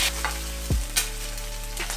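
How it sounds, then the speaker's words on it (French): Eggs are scrambled in a hot pan: a steady, close frying sizzle runs throughout, broken by a few sharp scrapes and knocks of a utensil stirring, with no talk. "Du coup, on commence par faire brouiller nos œufs."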